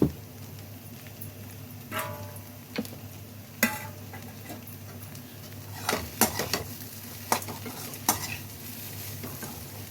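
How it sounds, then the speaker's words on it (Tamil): Drumstick leaves and potatoes deep frying over a low flame give a steady soft sizzle, broken by occasional sharp clicks and scrapes of stirring against the pan, close and without talk. "கொஞ்சம் நல்லா டீப் ஃப்ரை பண்ணால் போதும் லோ ஃப்ளேம்லேயே வச்சு பண்ணணும்"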